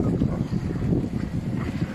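A sailboat's auxiliary engine running in choppy water among motorboat wakes, giving a loud, continuous low churning rumble mixed with water and wind noise, with no talk.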